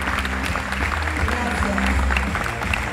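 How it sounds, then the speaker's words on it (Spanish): An audience at a stand-up comedy show applauds, a brief burst of dense clapping with crowd noise and a voice speaking over it. "Un aplauso muy fuerte para ti, Emilio."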